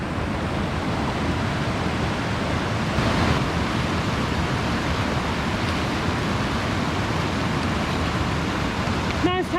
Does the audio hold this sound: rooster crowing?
no